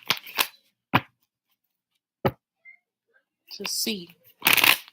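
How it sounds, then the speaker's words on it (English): Tarot cards are shuffled in a few short, crisp riffling bursts close to the microphone, separated by pauses, and a person talks in between them. "shuffle a little bit"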